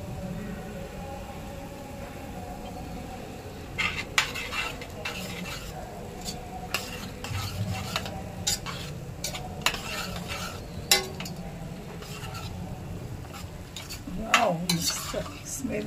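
A spoon scrapes and stirs through a ragda patties mixture frying in a pan as coriander goes in, with repeated clattering strokes over a steady low sizzle, close up and fairly quiet.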